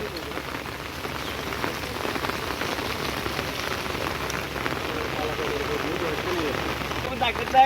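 Steady heavy monsoon rain patters on a surface, a dense continuous hiss that stays even throughout.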